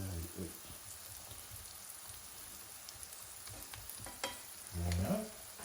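Sliced courgette with garlic sizzles softly in a pan while being stirred and arranged, a faint steady crackle with a few scrapes and a louder clatter near the end.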